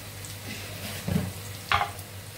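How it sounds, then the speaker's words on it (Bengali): Eggplant cooks in oil in a pan, a low continuous sizzle broken by two short scraping bursts of stirring, heard close and fairly quiet. "বেগুনটা ভেজে নেব।"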